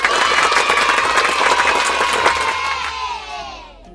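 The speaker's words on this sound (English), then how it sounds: "Let's give ourselves a round of applause." Children cheering and shouting loudly together in a lively pre-school group, excited voices that swell and then fade out over the last second.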